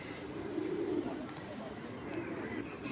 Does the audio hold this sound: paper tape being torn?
no